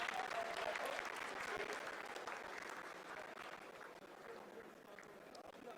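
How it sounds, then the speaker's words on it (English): Mission control team applauding during the Chandrayaan-3 lunar landing's vertical descent phase, a faint, sustained wash of clapping from a crowded room heard at a distance, continuing steadily throughout. "Lot of applause indicates that till now the performance has been nominal."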